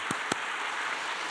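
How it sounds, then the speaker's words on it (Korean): A couple of sharp, isolated hand claps ring out in a church service, two quick strikes close together followed by quiet room tone. "박수 치시려면 같이 한번 치시죠"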